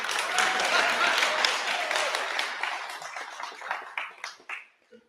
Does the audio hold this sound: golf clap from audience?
yes